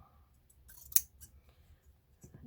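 Scissors cut fabric at a stitching table: a few crisp, close snips and clicks spaced irregularly over a quiet room.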